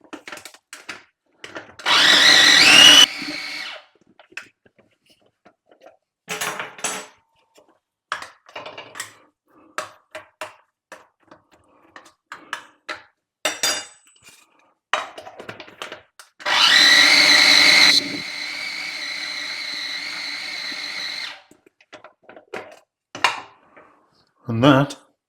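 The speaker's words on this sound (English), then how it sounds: "So bung it in your blender thing." A kitchen blender whirs in two loud bursts, a short one and then a longer run, blending bacon jam, between clattering, knocking and faint handling noises.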